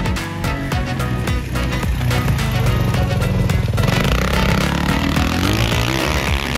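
A motocross bike engine roars loudly and continuously at full throttle, revving hard with a steady high-pitched whine that climbs as it accelerates.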